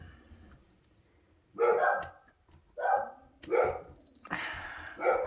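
A dog barks five times at close range, sharp irregular woofs spaced a second or so apart against a quiet room.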